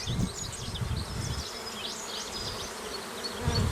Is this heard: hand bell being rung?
no